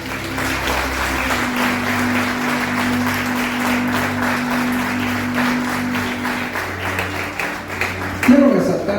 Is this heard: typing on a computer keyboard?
no